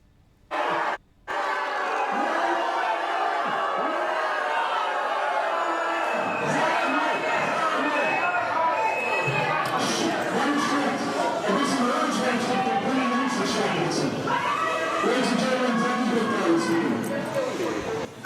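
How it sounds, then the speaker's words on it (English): A large protest crowd boos and jeers Boris Johnson, a dense sustained roar of voices with shouts rising above it, loud and continuous after a brief opening burst. "it would be remiss for us at Novara Media to turn up any opportunity to show Johnson in front of a booing crowd"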